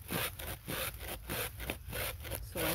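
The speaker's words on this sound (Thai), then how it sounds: "มันจำเป็นต้องใช้เลื่อย" A handsaw cuts through the hard base of a bamboo shoot in rapid, regular back-and-forth strokes, a close, rasping rhythm of about eight strokes with no talking.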